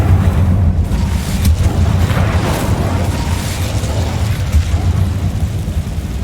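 Hogwarts Legacy's Incendio fire spell, a dense continuous roaring burst of flame that stays loud and rumbling throughout, with crackling swells and no clear pauses.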